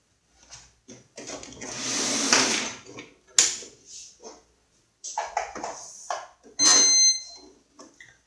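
A sewing machine stitches around a fabric baby pouch in stop-start runs: several bursts of mechanical whirring, some a second or two long, separated by short pauses.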